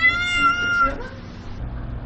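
A cat on a beach in Culebra, Puerto Rico, lets out one clear, fairly close meow over steady outdoor background noise.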